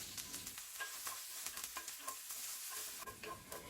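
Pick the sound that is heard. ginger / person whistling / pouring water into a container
ginger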